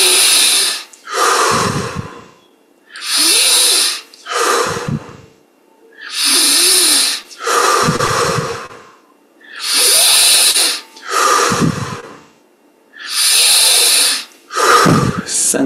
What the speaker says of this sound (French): On augmente l'amplitude des respirations.